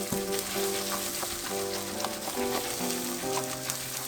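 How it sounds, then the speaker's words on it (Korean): Two beaten eggs scrambling in a pan over low heat give a soft, continuous sizzle, close and steady, under background music. "계란 2개 풀어서 약불에서 스크램블합니다."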